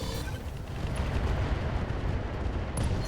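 Mech weapons, including LRMs, open fire in the video game RogueTech, a dense continuous barrage of booming, rumbling shots with no pauses throughout.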